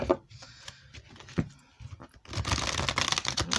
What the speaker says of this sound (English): Let me shuffle up this deck.